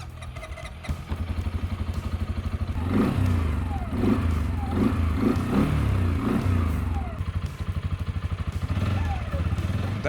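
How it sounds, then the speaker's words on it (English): A CFMoto Cforce 400 4x4 ATV engine runs steadily close by, with a low, throbbing idle that rises in a few brief revs and settles back, a little mechanical clatter riding over the rumble throughout. "The engine sound is pretty standard, not annoying."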